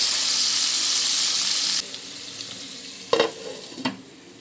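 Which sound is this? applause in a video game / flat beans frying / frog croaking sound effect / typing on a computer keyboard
flat beans frying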